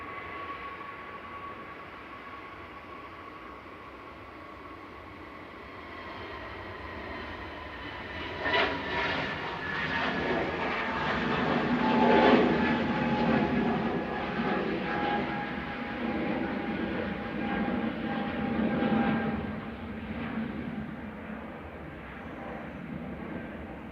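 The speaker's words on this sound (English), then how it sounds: "Departing on 23 right is GUZLB over to Malaga." Passenger jet departing runway 23 right at Manchester Airport bound for Malaga, a steady distant engine roar that swells to a peak midway and then slowly fades.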